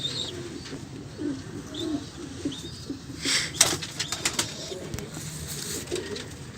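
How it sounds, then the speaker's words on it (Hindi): Domestic pigeons coo in soft, repeated low calls at close range, mixed with bursts of wing flapping and light rustling. "मेरे घर के कबूतर"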